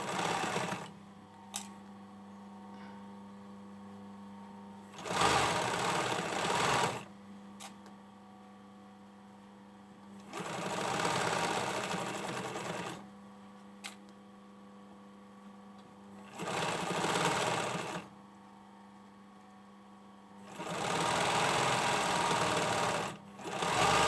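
Sewing machine stitching a hoodie side seam in four bursts of rapid mechanical whirring, separated by quieter gaps where a steady low mains hum remains; close and fairly faint overall.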